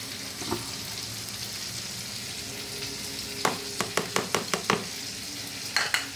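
Grated ginger, green chilli and onion are stirred into a frying pan for a fish and egg curry, giving a constant low sizzle, then a run of sharp spatula knocks against the pan toward the end.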